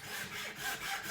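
A Titleist golf club shaft being trimmed to length, giving a steady back-and-forth rasping cut with rhythmic strokes, close and moderately loud, with no talking.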